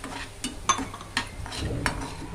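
Semolina roasts in a pan for kesari while a spoon stirs it, giving soft scraping strokes at an irregular rhythm over a faint dry sizzle, close by.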